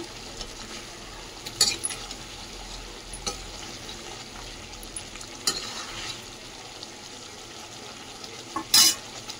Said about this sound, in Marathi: मिक्स करून घेते सर्व.